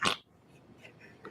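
A single sharp sneeze right at the start, close and abrupt, followed by a quiet room.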